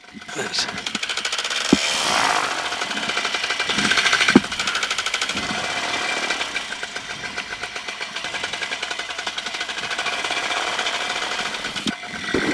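A flexwing microlight engine runs steadily at a rapid, buzzing, knocking idle close by, with brief clicks and a voice talking over it at times.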